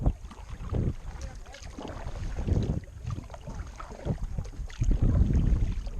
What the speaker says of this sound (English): Now we are at Tres Palmitas Kayaking Tour.